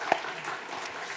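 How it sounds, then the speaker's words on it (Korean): Church congregation giving welcome applause at a guest invitation service, a soft, even patter of many hands with one sharper clap near the start. "우리 서로 환영의 박수 하도록 하겠습니다"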